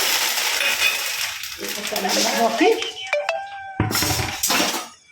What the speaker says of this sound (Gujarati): મમરા નાખીને આવી રીતે વઘારવાના.